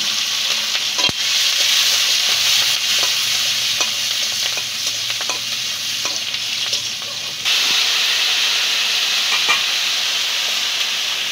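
Slit green chilies sizzle steadily in hot oil in a pan, a loud continuous frying hiss broken by occasional clinks and scrapes of stirring.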